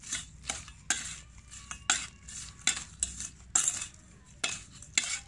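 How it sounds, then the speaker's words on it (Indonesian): A spoon scrapes and stirs a gritty soil mix with burnt rice husk in repeated strokes, each a short rasping scrape, close and fairly quiet with brief pauses between. "Kemudian ini diaduk."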